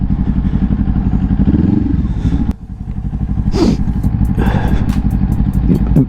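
A motorcycle engine idles close up with a steady low rumble, dips briefly, then picks back up, with some clatter and a short shout over it.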